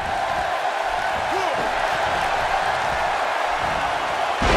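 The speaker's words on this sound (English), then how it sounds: "A brutal slam changes the entire complexion of this match" A WWE 2K18 wrestling match brings a continuous roar from the arena crowd, steady and loud throughout, with a commentator talking over it and a brief swell near the end.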